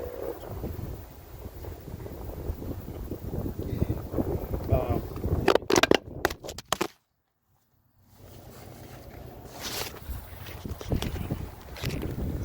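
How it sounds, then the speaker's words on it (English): Gusty wind buffets the microphone in loud, rough bursts, with a person speaking in between; it drops out briefly, then the blustery noise returns. "It's windy right now"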